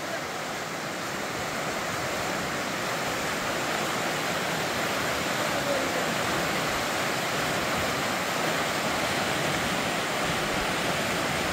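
Steady, dense rush of flowing water outdoors, a continuous broadband roar holding even and fairly loud throughout with no distinct events.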